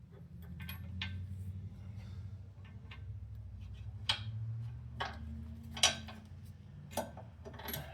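A socket wrench works on a Dodge Ram transmission mount, giving faint, scattered metallic clicks and taps over a low, steady background hum.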